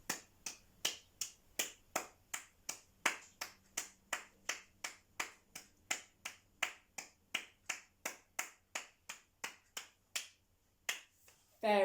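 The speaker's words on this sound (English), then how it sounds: "So let's just clap it one more time and make sure that you are following with your eyes" Hands clap a steady quaver rhythm in a music lesson, a long even run of sharp, close claps in pairs, about two to three per second, with a faint voice near the end.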